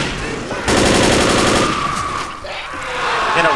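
Rapid automatic gunfire in a video game, a dense rattling burst that starts abruptly and keeps going close and loud, with voices mixed in.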